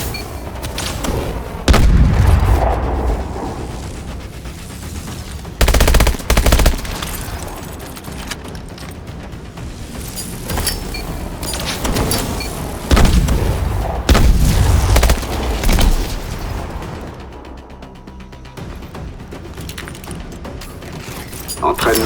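Explosions from a marker grenade strike in the video game Call of Duty: Advanced Warfare, deep booming blasts and rumbling impacts in several heavy bursts amid gunfire and mechanical noise, loud and close, with French in-game voices talking in between.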